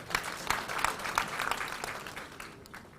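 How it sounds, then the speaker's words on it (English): An audience at a televised school quiz competition applauds, a dense patter of many hands clapping at moderate distance, steady and then gradually tapering off. "Please round of applause to IM"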